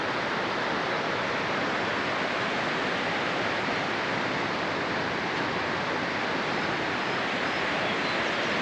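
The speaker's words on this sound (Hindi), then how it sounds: "तो सामने झरना है, नीचे पानी की बहुत ज़ोर की आवाज़ आ रही है," A continuous, dense rushing roar of a waterfall near Manali, steady and unbroken throughout, with no voices.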